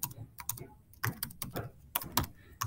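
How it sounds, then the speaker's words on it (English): Keys tapped on a computer keyboard in short, uneven clusters of clicks, close and fairly quiet, with small gaps between bursts. "So I could type in there,"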